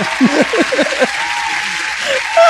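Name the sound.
applause sound effect played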